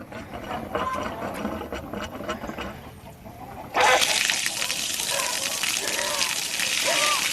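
Water suddenly gushes out during a barn water test, a loud steady rush that starts about halfway through and continues to the end. Before it, a quieter background is heard.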